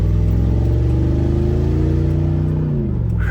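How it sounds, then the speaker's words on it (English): A V8 daily-driven beater car with a worn, rusted-out exhaust revs steadily, its loud low engine drone rising and falling in pitch near the listener, with no talking. "Here's one of the benefits to having a daily with a V8."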